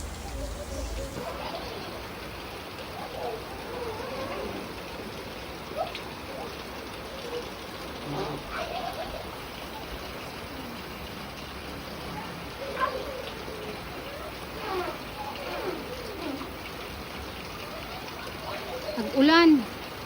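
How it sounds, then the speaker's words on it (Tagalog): Rain falling outside a home, a faint steady patter through the whole stretch with a few distant birds and brief indistinct voices. "Nag-ulan."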